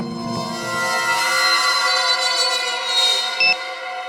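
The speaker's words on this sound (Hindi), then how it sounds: "कहीं धीमी आवाज में तो नहीं बजा अलार्म?" An electronic alarm clock rings with a steady, bright, buzzing tone that has many harmonics and lasts several seconds, fairly loud and close, with a brief extra beep near the end.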